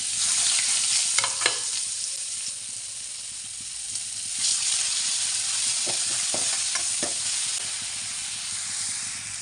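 Ginger, garlic and onion paste hitting hot oil already used for frying fish eyes, a loud continuous sizzle and hiss with scattered clicks of stirring, close up and without talk.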